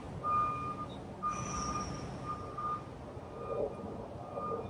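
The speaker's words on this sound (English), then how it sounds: "Pardon the plane and the garbage truck." Distant garbage truck reversing beeps repeat at a steady interval over low rumbling traffic and engine noise.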